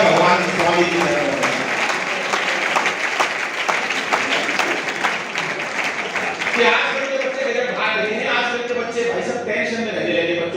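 An audience at a Hindi comedy poetry recital claps together in a dense, steady round of applause that carries on for about ten seconds without a break.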